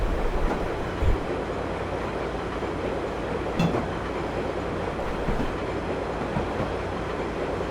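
Virginia Railway Express commuter train 312 rolling steadily along rails through rural curves, a continuous close rumble with faint clickety-clack and a brief wheel squeal.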